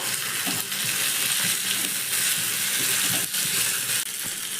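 Finely chopped ginger, a few small pieces, frying and being stirred in a pan for a semolina snack, giving a steady close sizzle with scraping stir strokes throughout.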